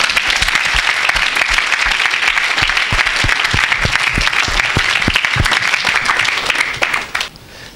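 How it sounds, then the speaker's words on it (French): Church congregation clapping hands, a loud, dense and continuous burst of applause close by that fades away at the very end. "I told you to clap your hand for that."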